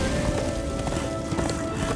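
Close, loud hoofbeats of a horse galloping in Darksiders 2 drum in a fast, continuous rhythm, with no voices.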